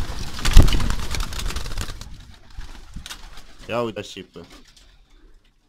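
Racing pigeons, smeared with fuel oil, coo in a rolling, throaty burst near the loft while someone talks nearby, with rustling and handling noise before and after.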